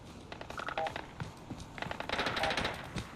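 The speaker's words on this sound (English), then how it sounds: "Ooh, gunfire. My favorite." Gunfire in Fallout 4: rapid bursts of shots in quick clusters, loud and close, the later burst denser, with some voice underneath.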